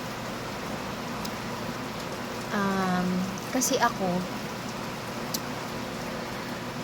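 Rain pours in a constant, heavy hiss while a person speaks briefly over it.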